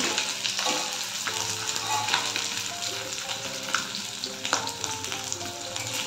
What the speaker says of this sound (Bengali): মাছ ভাজা হচ্ছে, মাছ ভাজাগুলো কমপ্লিট হয়ে গেছে, নামিয়ে নেব।